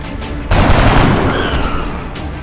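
A sudden loud volley of soldiers' gunfire erupts in the turn-based video game XCOM Enemy Unknown, a dense crackling burst that slowly tails off over a couple of seconds with faint electronic tones behind it.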